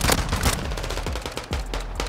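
Rapid, loud gunfire in an online shooter game, a dense burst of close shots crackling one after another with no pause.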